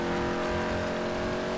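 A race car in GTA Online drives through snow with a steady, loud engine drone at constant revs, close and continuous with no speech.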